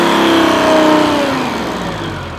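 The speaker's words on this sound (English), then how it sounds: "Give her one more rev." The engine of an old grain truck, parked since 1983, is revved close by, a loud rising roar that holds and then slowly winds back down.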